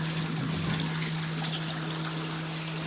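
Water trickles steadily through a backyard aquaponic system with a fish tank, making a continuous, even wash of flow with a low pump-like hum beneath it and no voices.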